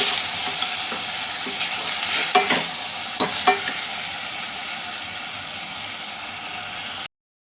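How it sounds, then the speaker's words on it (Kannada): Mutton pieces frying in a little oil with turmeric and salt in a pan for green gravy masala, a steady soft sizzle with a few scraping stirs early on, close and alone with no talk. "ಇದೊಂದು ಸ್ವಲ್ಪ ಆಯಿಲಲ್ಲಿ ಸ್ವಲ್ಪ ಫ್ರೈ ಆದಮೇಲೆ ನೋಡಿ ಫ್ರೆಂಡ್, ಈ ಥರ ಆಗಿದೆ"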